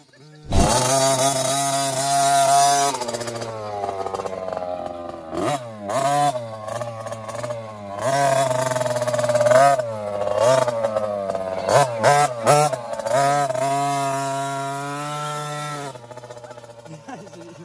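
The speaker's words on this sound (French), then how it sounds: "Après 2 heures d'attente, ça y est, la moto a démarré" A motorcycle engine starts with a bang and runs loudly close by, revving up and down repeatedly with a rough, throaty roar before settling to idle.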